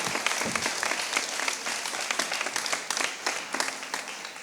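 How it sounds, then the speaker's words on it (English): Audience applause at an arts and culture marathon event in Palazzo Diedo, Venice, a dense continuous clapping from a sizable crowd, steady and fairly loud throughout. "Big round of applause."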